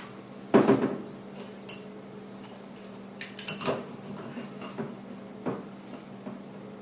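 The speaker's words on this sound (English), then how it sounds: "Then I'm going to attach the T-handle compression wrench to the valve and" Metal T-handle compression wrench being tightened onto an engine valve, a series of sharp metallic clinks and taps, scattered and irregular, fairly close with quiet gaps between.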